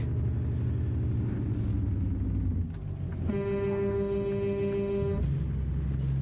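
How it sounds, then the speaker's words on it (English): In American Truck Simulator, in the rain, a truck's deep engine rumble drops off, then an old Jake brake's loud buzzing, rapid-fire drone cuts in for about two seconds before the low idle returns. "Listen to the sound of that old Jake brake."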